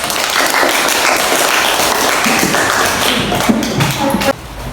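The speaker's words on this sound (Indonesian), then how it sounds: "Aplaus untuk kelompok Selebes." Classroom applause for a student group: dense, loud clapping from many hands throughout, close by, stopping abruptly near the end.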